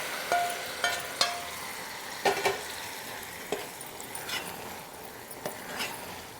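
Dry fruits fried in ghee are scraped into a pot of dal, giving a faint sizzle broken by a series of sharp spoon clinks and taps against the vessel.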